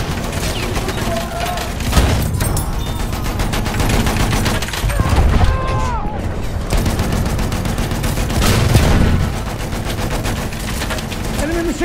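Battlefield 1 combat on a World War I battlefield, with machine gun fire blending into a continuous loud roar of shots and blasts that barely lets up, joined by scattered tonal effects midway.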